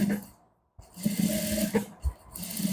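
A sewing machine top-stitches a men's baggy trouser in short whirring bursts separated by brief pauses, heard up close with no one talking.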